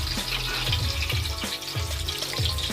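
Battered chicken pieces for chicken satay sizzle in hot oil with a steady, close frying hiss, while low repeated thumps pulse underneath throughout.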